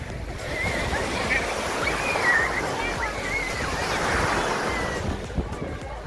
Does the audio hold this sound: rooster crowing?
no